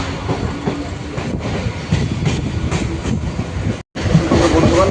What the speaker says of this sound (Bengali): এখান থেকে আবার ট্রেন ছাড়লো।